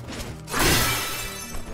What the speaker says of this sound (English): Smashing pots.